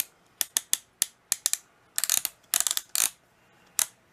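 Hose clamps being tightened around a cordless drill, a series of sharp metallic ratcheting clicks, single and in quick bursts, close and crisp with short pauses between, no talking.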